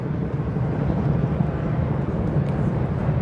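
A sightseeing tour helicopter passes overhead near Brooklyn Bridge Park in New York City. Its low engine and rotor rumble is heard as a steady, fairly loud drone, with no talk over it.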